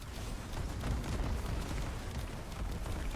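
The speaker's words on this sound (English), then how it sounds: "They're just exploding now." Enemies burst apart from slash procs of dual Ether swords in Warframe, a dense run of booming, rumbling explosions with low-end thumps, continuous and loud throughout with no voice on top.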